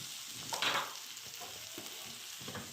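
Onions frying in a pan for an oven-baked chicken tray dish, a steady close sizzle with a brief louder burst of crackle early on and faint stirring scrapes, no voices.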